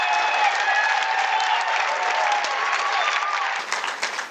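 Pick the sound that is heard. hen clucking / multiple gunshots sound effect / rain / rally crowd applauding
rally crowd applauding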